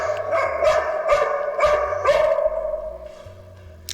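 A scared, aggressive dog barks in a rapid series of four or five loud, close barks with a whine between them, and no voices.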